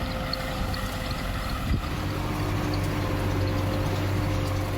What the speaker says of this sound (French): un premier tracteur est utilisé avec un endaineur pour ramasser le foin déjà coupé